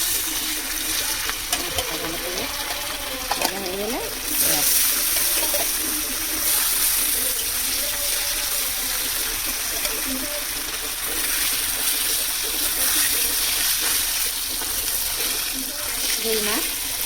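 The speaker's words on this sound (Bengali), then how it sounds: "তেল ভালো করে গরম হয়ে গেছে, এবার মাছ দেবে" Rohu fish frying in hot oil, a loud steady sizzling hiss throughout, with someone speaking over it.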